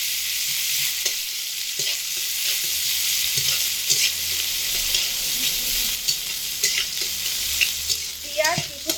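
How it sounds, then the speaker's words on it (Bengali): Chopped onion sizzles steadily in hot oil in a pan, a bright continuous frying hiss with occasional stirring scrapes and clinks, no voices. "গরম তেলের মধ্যে পেঁয়াজ কুচো দিয়ে দিচ্ছি"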